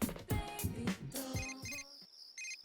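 A phone call ringtone chimes in the Persona 4 Golden video game, a bright electronic melody of short repeated tones heard clearly over the game's music, then pulsing alone in a few quick beeps.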